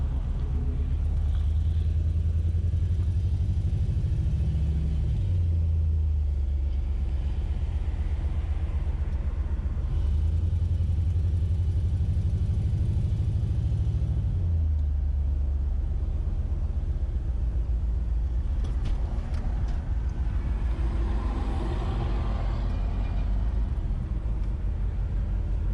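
An LS-swapped Chevy S10 pickup truck pulling onto a main road, its engine rumbling low and continuous with a couple of rev swells and gear changes, heard from inside the cab.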